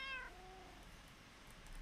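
A single short meow from a Minecraft cat, a quick descending tone that is over almost at once and then trails into low background hum, with nobody talking.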